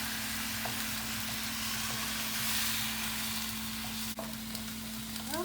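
Fish sizzles steadily in a hot pan as it is stir fried and mixed, a continuous loud frying hiss over a low hum, with a brief clatter near the end.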